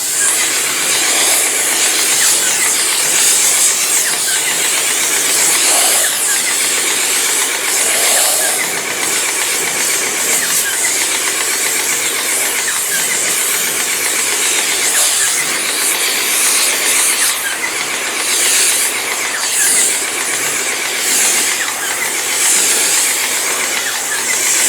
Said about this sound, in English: Now what I'm going to do is rinse it off